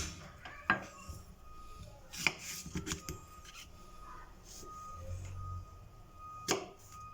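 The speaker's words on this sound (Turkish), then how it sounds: "Bir adet salatalık doğrayacağız." A knife taps and cuts through a cucumber against a cutting board a few times, sharp irregular clicks with quiet pauses between, close by, amid faint kitchen clatter.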